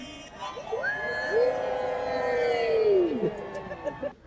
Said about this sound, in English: Here's the master of ceremonies, Woodstock Willie, getting the crowd excited.